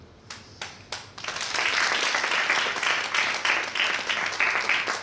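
A few isolated claps open, then a full audience breaks into steady, dense applause that swells and holds at moderate loudness through the rest, with no talking over it.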